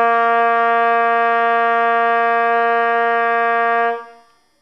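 A trumpet sounds a single sustained open C with no valves pressed, a steady bright tone held clearly for about four seconds before fading out, played alone.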